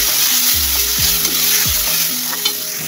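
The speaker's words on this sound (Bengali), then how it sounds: "অল্প করে হলুদ দিয়ে আলুটাকে ভালো করে ভেজে নেব" Potatoes frying with turmeric and spices in a pan give a loud, continuous sizzle, close up, with repeated stirring scrapes throughout and no voices.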